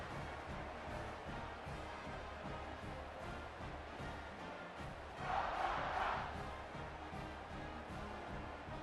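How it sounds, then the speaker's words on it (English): Stadium crowd at a college football game against SMU, a steady broad roar with a louder swell of cheering around the middle, heard at a distance without clear talk. "this crowd is feeling themselves after that last drive"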